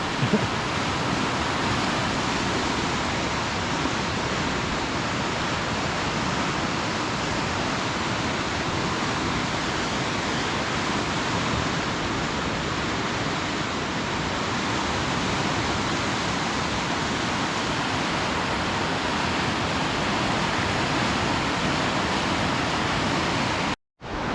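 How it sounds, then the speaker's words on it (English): Elwha River rapids churning downstream of a bridge, a continuous broadband rushing roar of whitewater, loud and steady throughout with no voices. "here's downstream of the bridge. And that's just a flat out rapids right there."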